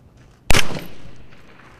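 A single loud sniper rifle gunshot cracks sharply at a target range during an armed forces marksmanship match, then trails off in a lingering outdoor echo and rumble.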